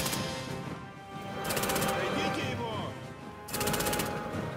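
Two rapid bursts of automatic gunfire crackle through a busy background in the video game Sniper Elite V2 Remastered, a few seconds apart, sharp and fairly loud.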